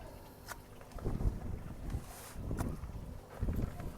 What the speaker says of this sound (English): it's a bit windy here, so in a minute, hear the wind just picked up